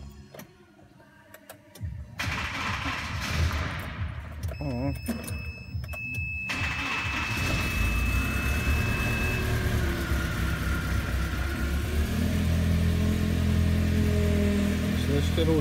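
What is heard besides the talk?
car engine cranking and starting after pump pulley repair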